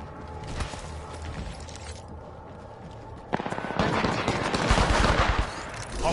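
Bursts of rapid gunfire in a shooter video game, a few scattered shots first, then a dense, loud stretch of automatic fire in the second half, with no talk.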